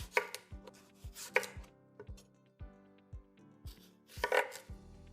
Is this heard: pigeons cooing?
no